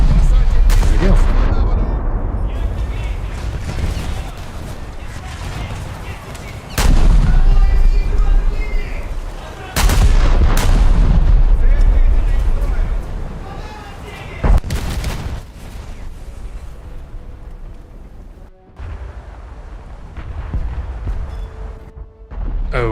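Heavy naval gun salvos from a Japanese cruiser in a warship video game: booming blasts in bursts with rumbling aftermath, loud and close, while someone talks over the action.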